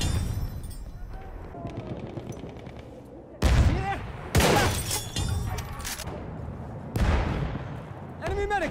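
Enemy machine gun fire in Battlefield 1 rattles in bursts, with a few heavy blasts and booming impacts in the middle, while voices speak under and between the shooting.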